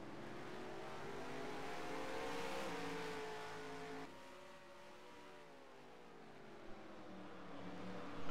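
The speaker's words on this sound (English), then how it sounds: "Chevy rolling around Martinsville" A Chevy race car circles the Martinsville short track, its engine note rising and falling as it rolls through the turns. The engine stays steady and fairly distant, with no talking.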